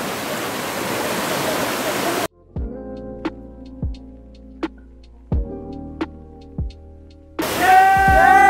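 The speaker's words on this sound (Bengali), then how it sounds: "এই যে এটা হচ্ছে আমাদের প্রথম ঝর্ণা।" A waterfall near Chandranath in Sitakunda gives a dense, steady roar at the start and again at the end. Between them is a stretch of tonal music with slow, thumping beats.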